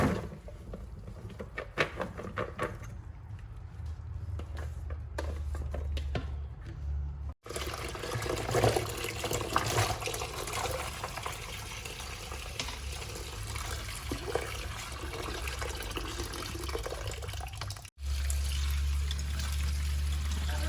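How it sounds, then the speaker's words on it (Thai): Pumpkin pieces soaked in limewater are rinsed in clean water for a Thai pumpkin-in-coconut-milk dessert, with steady pouring, splashing and trickling water running close by throughout, briefly cut off once. "เราก็จะนำฟักทองที่เราแช่น้ำปูนใส่ไว้มาล้างน้ำสะอาดกันนะคะ ล้างสักสองน้ำนะคะ"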